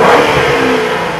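A modified 2006 Ford Mustang GT engine revs hard close by, a short loud roar that eases off slightly at the end.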